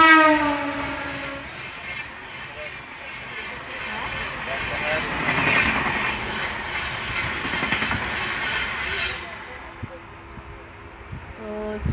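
Interior of a moving passenger train: a steady, close rumble and rattle of the carriage runs throughout, swelling midway and easing toward the end, with a faint murmur of voices beneath.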